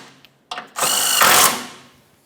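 A power tool spins a bolt into the subframe of a 2007-2017 Jeep Patriot, giving a short whirring burst after a click that rises, holds for about a second and trails off, close and loud.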